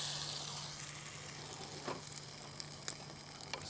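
Egg-soaked bread for French toast fries in a moderately hot pan with a continuous, fairly quiet sizzle, punctuated by a few small pops and crackles.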